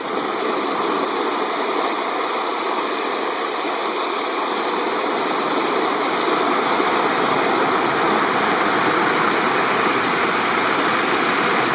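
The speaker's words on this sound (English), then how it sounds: "Beautiful river setting." A river flows past a backcountry campsite with fireweed along its banks, a steady, broad rushing wash that holds evenly at close range with no voices throughout.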